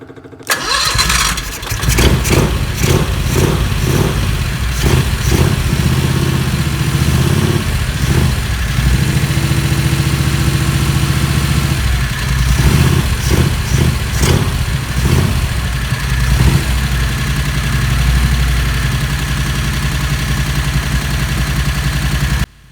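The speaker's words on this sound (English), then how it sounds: "I say we start the engine and see what happens." A small 670cc Predator gasoline engine with a bigger carburetor, mounted in the back of a Renault, cranks and catches, then settles into a steady, loud idle with uneven pulsing and occasional stumbles, no voices.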